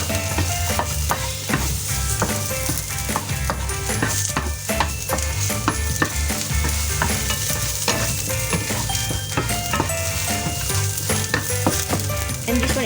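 Sichuan peppercorns fry in hot oil in a pan, giving a steady dense sizzle with frequent scraping and stirring clicks from a utensil throughout, fairly close, with no talking.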